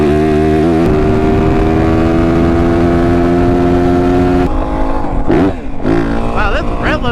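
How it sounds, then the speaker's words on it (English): A 450 motorcycle engine with a competition ECU tune held hard against the rev limiter, a loud close buzzing drone that stutters and breaks into rapid revving bursts toward the end. "Wow, this rev limiter sounds different with that tune."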